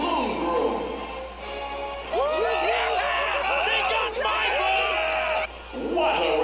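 Crowd at a flower maiden festival in the Bravely Second: End Layer video game, loud whooping and yelling cheers in overlapping waves with short dips between bursts.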